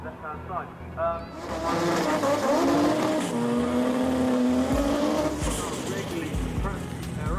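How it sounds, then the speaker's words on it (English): Front-wheel-drive drag cars do burnouts, loud engine roar and tire squeal rising with shifting pitch over a crowded track, while a commentator talks over the noise. "Strong burnouts there from both Glenn and Paul Atkinson, both meaning business."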